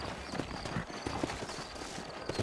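Horse hooves clip-clop steadily in Red Dead Redemption, a quiet, even rhythm of close hoofbeats with no talking over them.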